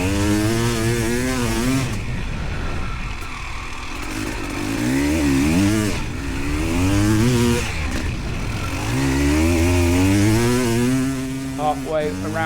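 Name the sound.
Panther dirt bike engine riding laps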